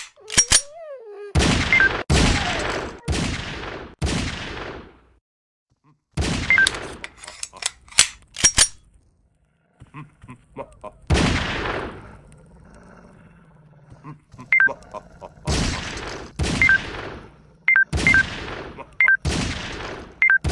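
Gunshots in the mobile game Circus Master Revenge, sounding as loud sharp single shots in irregular clusters separated by near-silent pauses, with a synthetic game voice between shots.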